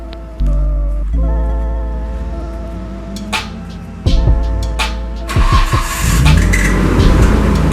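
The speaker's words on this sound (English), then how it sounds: "I'm gonna have to go move the car for you guys." A Nissan Skyline R33 engine idles, then revs up and accelerates away, with tire noise and rising engine roar toward the end, close by.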